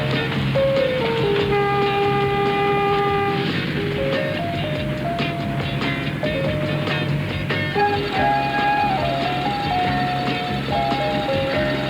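A train rumbles past with steady clattering and tonal horn-like blasts sliding in pitch, loud and continuous throughout, with no talk.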